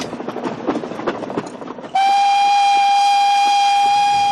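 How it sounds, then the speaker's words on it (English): Victorian steam train on a heritage railway: rumbling, chuffing carriage noise for two seconds, then a loud, sustained steam whistle blast holds steady to the end. "This is the most fantastic train, isn't it?"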